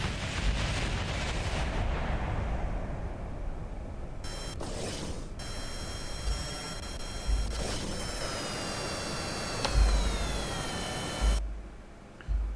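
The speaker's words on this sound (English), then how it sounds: "Sneak Kerman is too busy avoiding gunfire, avoiding missiles, to actually put some gunfire in" Gunfire and missile fire rumble through a Kerbal Space Program dogfight as dense, noisy bursts and thumps, broken by whining tonal sweeps and a few sharp low booms, with no talk.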